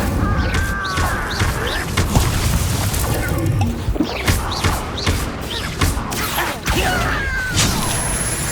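Incendio fire spells in the Hogwarts Legacy video game burst as repeated booming thumps and crashes over a dense, loud game soundscape, with brief whooshing accents scattered throughout.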